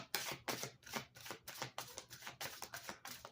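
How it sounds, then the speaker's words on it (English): A deck of cards is shuffled close up in a quiet room, a series of crisp riffling bursts repeating in a steady rhythm of about ten quick flutters. "And I do shuffle my decks prior."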